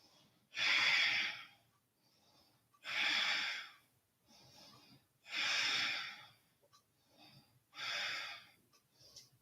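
Four strong, evenly spaced breaths during an exercise class core workout, each a long airy exhale with faint inhales between, close and alone without talking.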